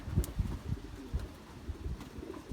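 Racing pigeon handled up close, giving soft low cooing pulses in an irregular rhythm, faint under handling rustles and quiet room noise.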